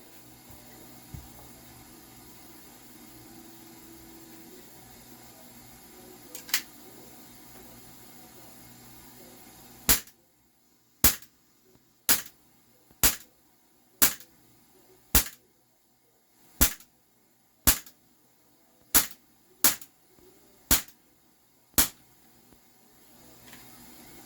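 A Walther CP99 Compact 4.5mm BB pistol fires ASG Blaster BBs: about a dozen sharp, close shots in a steady rhythm, following a quiet stretch with one isolated click.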